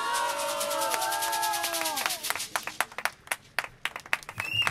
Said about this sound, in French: On applaudit.